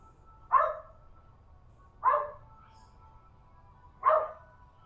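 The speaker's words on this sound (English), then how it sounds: "And you can hear my dog freaking out." A dog barks three times at even intervals, each bark sharp and moderately close, over a quiet low hum in a room during a yoga session.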